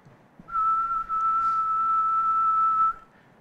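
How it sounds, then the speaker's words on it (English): A person whistles a single steady, sustained note close to a small handheld sound recorder, holding it for about two and a half seconds with no talking. "I'm going to take a sample of myself whistling here."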